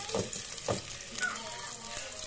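Ginger sizzles in a hot pan with a soft, steady crackle, punctuated by a few louder stir-scrapes, close by at low volume.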